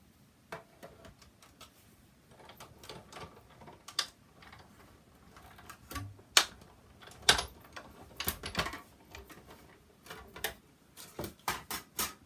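A paper card shape for a spinner card is cut out, giving quiet, irregular snips and crisp paper clicks in uneven bursts, close by with no talking.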